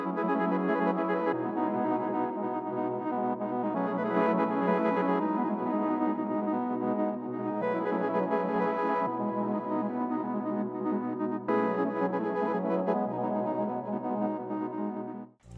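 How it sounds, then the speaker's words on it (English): Warm, hazy synth pad chords from the Arc Hazy Memories preset sustain and shift between changes, a moving textured tone played alone with no voices. "I'm using the Arc Hazy Memories preset from the pads folder."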